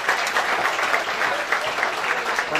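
Loud, steady applause from an audience at a community pie-cutting celebration in Greece, continuous dense clapping close by for the whole stretch.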